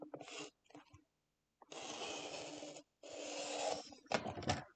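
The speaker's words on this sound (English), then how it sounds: "So I'm going to actually cut this scrap." Scissors cutting a paper scrap into a 1-inch strip for scrapbooking: several close, crisp snipping bursts of a second or so each, separated by short pauses, with a brief rustle of paper at the end.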